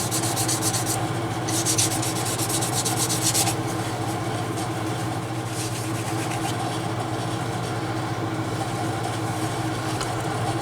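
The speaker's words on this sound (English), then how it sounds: "I'm just going to sand these a little bit. I've got some, I think it's 600 grit." Steady hand sanding of leather bifold wallet edges with worn 600 grit sandpaper, a continuous rubbing hiss with short brighter strokes near the start, over a constant low mechanical hum.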